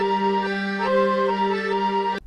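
A short excerpt of a song from the ARMA video game series: steady sustained synth chords with a faint bright accent, playing alone before cutting off abruptly.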